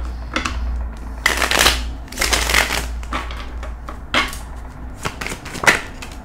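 Tarot cards being shuffled by hand, a run of crisp riffling and sliding bursts with short pauses between them, close and fairly loud with no talking.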